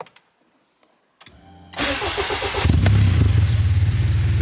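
A few faint clicks, then a starter cranks briefly before a vehicle engine with a JDI push start ignition fires and settles into a loud, steady idle.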